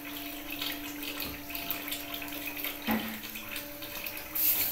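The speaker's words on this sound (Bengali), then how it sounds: "এর মধ্যে আমি 1 বাটি মতো জল দিয়ে দিচ্ছি। এই জলটা কিন্তু আমি উষ্ণ গরম জল দিচ্ছি।" Warm water poured into a pan of grated coconut and semolina, a soft continuous close trickle and splash with a faint steady hum beneath and no voices.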